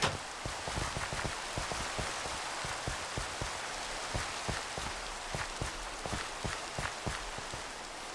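Steady rain falling in Minecraft, a dense hiss of droplets with frequent sharp individual drip ticks spread evenly throughout, fairly loud and with no voices.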